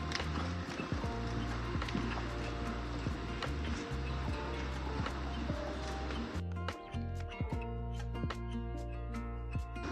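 A horse's hooves strike the ground in a steady, fairly close rhythm during a trotting ride, with creaks of tack and a constant background hum.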